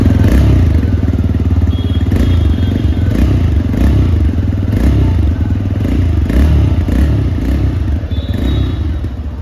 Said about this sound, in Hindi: तो कुछ इस तरीके का स्पोर्टी एग्जॉस्ट साउंड आपको इस बाइक का सुनने को मिल जाएगा।